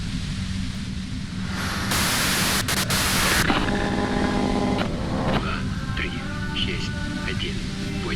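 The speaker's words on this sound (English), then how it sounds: "If you've got something really important to say, you can do it through the white noise." White noise in the Disco Elysium video game hisses as a loud, broad static burst that cuts in sharply and stops just as suddenly. A voice speaks over a lingering electronic hum and tones.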